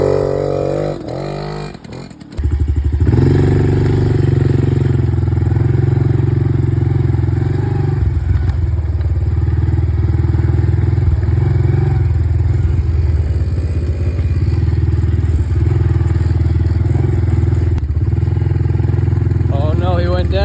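Dirt bike riding on a homestead: a motorcycle engine starts up and holds a loud, steady drone with shifts in revving while nearby riders talk over it.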